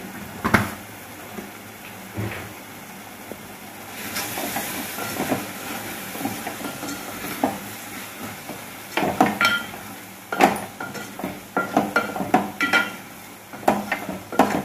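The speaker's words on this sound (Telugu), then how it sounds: "బాగా తిప్పుకోవాలి, కలుపుకోవాలి." Mushroom curry with chili powder being stirred in a pan, with scraping strokes of irregular rhythm over a soft sizzling hiss, close up and without talking.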